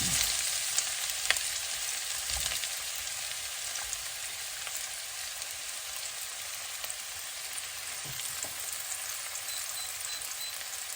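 Ginger and onion sizzle in hot, bubbling oil while laing is cooked, a constant bright hiss with a few sharp pops and faint clinks, steady and close, with no voices.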